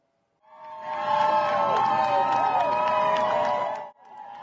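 A large crowd cheers loudly and steadily as Joe Biden enters the venue for his speech, a dense roar of voices and whistles that swells, holds for several seconds, then briefly dips before resuming.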